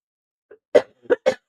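A short burst of three close, dry coughs in quick succession, preceded by a faint throat sound, in an otherwise quiet room.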